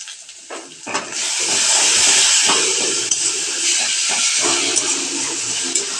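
Ground cumin and coriander paste hitting hot oil in a pan for a Bengali hilsa fish dish, a loud steady hiss and sizzle that swells and holds, with faint clinks of a utensil.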